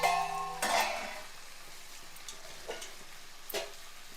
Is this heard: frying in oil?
yes